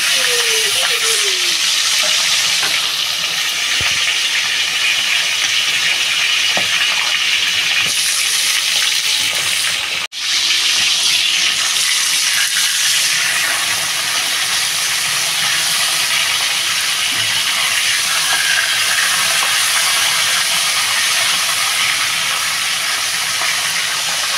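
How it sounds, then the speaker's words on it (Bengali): Katla fish head frying in hot oil, a loud, dense, continuous sizzle and hiss that stays steady throughout with one brief dip. "মাছের মাথাটা দিয়ে দেবো। মাছের মাথাটা ভালো করে ভেজে নেব।"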